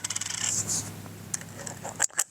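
20mm flathead screws with washers slide through the holes of a mud flap mount plate for a Polaris RZR XP trailing arm: small metallic clinks, scrapes and rattles close up, ending in a couple of sharp taps.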